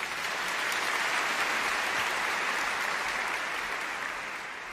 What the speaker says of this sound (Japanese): 伴奏者の野津さんにも大きな拍手お願いします